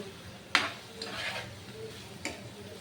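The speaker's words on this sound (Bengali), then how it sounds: "আমি এখন ভেজে রাখা চিকেনগুলি দিয়ে দিব।" Pieces of fried chicken are tipped into a pan with capsicum and black pepper and stirred. There is a sharp clatter near the start, a brief sizzling stretch, and a second lighter clink near the end over quiet kitchen background.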